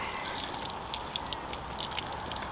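Five gallons of compost tea poured straight onto a raised garden bed, a continuous close splashing gush of liquid with no voices.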